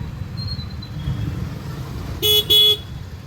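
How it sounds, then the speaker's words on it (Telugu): Steady rumble of heavy road traffic on a road near Kailasagiri, Visakhapatnam, broken near the end by two short, loud car horn honks in quick succession. "చూడండి ఈ రోడ్లో ట్రాఫిక్ ఎక్కువ ఉంది ఫ్రెండ్స్."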